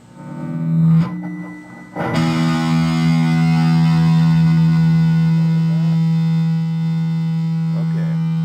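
Cheap gear pushed into a metal tone: a loud, muddy, over-the-top distorted electric guitar chord rings out, is struck again, then sustains with a buzzing hum and no voices.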